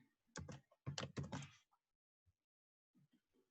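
Several clusters of quick keystrokes on a computer keyboard, close and fairly loud, bunched into three short bursts near the start, then a few sparse, faint taps after a pause.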